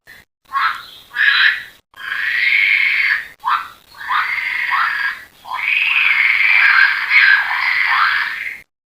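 An electronic sound toy plays a frog-croaking effect in a series of loud, raspy bursts with brief gaps between them, close and alone without talk.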